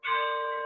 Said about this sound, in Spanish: Ya están tocando las campanas.